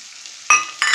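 Ginger garlic paste and chopped tomatoes hit hot oil in a pan for Bengali-style ghugni, giving a sudden loud sizzle and then a second burst shortly after, heard up close.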